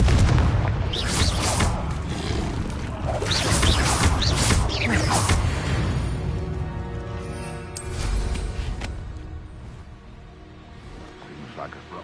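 Booming blasts from Confringo and Bombarda spells in the Hogwarts Legacy game, rapid, heavy impacts crowding the first half under spoken combat calls, then fading to a lower rumble and scattered clatter.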